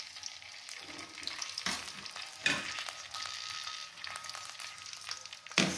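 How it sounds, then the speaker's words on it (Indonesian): Pindang carangka fish fries in hot oil in a pan, a steady close crackling sizzle with sharp pops and spatters now and then, and no talking. "Sekarang ikan pindang carangkanya kita goreng dulu ya guys."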